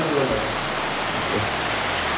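Steady, dense hiss of heavy rain pouring down outside, continuous and unbroken, with a faint voice now and then underneath.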